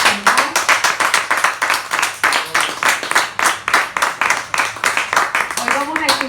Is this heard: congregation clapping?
yes